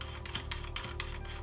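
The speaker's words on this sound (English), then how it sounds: "start off by unscrewing the bottom where the weight hook is" Threads of a Benro S4 travel video tripod's reversible centre column rasping as the bottom cap with its weight hook is unscrewed, a few short close scraping turns with no talk.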